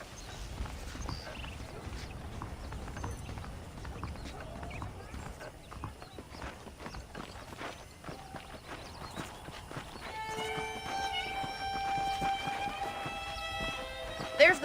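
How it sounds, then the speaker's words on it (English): Horse hooves clip-clop steadily in the Red Dead Redemption video game, a quick regular walking rhythm under continuous voices, with bright tonal game sounds rising near the end. "The horses are saddled up over here."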